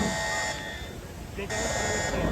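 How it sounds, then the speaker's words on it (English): An alarm buzzer sounds at the Universal Studios Hollywood Raptor Encounter show. It is a loud, steady electronic drone that dips briefly partway through, then returns at full strength. "Sound the alarm."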